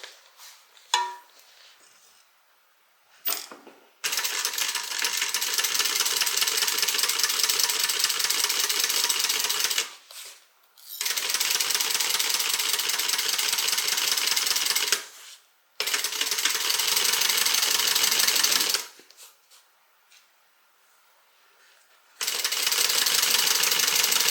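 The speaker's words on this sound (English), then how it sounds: "we're going to go ahead and stitch" A sewing machine stitches a fabric sling bag in several long, steady runs of a few seconds each, separated by short pauses, close and fairly loud with no talking.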